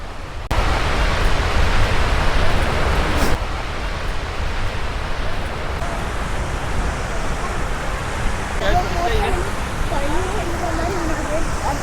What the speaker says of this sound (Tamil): இந்த தண்ணி பார்த்தீங்கன்னா ஒவ்வொரு இடத்துலேருந்து வந்து இந்த இடத்துல ஜாயிண்ட் ஆகி ஒழுகிட்டு இருக்கும்.